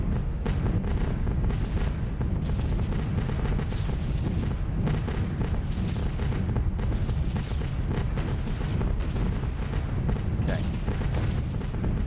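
Flak anti-aircraft fire bursts around a B-17 bomber in the game B-17 The Mighty 8th. Dense, continuous booming and rumbling runs under a steady drone the whole time, and explosive thuds land in irregular succession.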